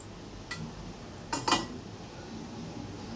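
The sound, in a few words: pot lid being put on a cooking pan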